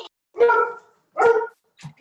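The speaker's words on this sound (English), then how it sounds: "Not Mabel, maybe Joni's dog" A dog barks twice close by, loud full-throated barks about a second apart, followed by a short, softer yip.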